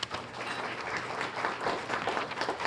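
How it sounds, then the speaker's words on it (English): A room of people at a local student-of-the-month award event gives brief, steady applause, moderately loud and continuous throughout. "So let's have a nice round of applause for them."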